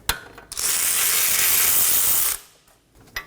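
A ratchet spins steadily for about two seconds as it backs out the last front brake caliper bolt on a 2015-2023 Nissan Maxima 3.5L V6, loud and close, with a couple of sharp clicks before and after.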